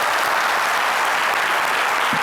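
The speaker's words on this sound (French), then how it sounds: "Allez, on peut l'applaudir bien fort" Loud, dense audience applause fills a French television studio show, a continuous wash of many hands clapping for a guest, with no voices over it.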